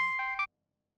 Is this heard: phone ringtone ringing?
yes